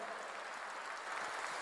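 A church congregation claps during a sermon, a steady wash of applause that swells slightly louder near the end, with no speech over it.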